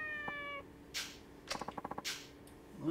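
Cat meowing in the game Yakuza 4, a few short meows separated by quiet gaps, with a quick burst of rapid clicking partway through, fairly faint and close, no talking.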